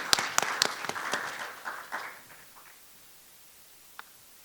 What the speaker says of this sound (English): please welcome with a big applause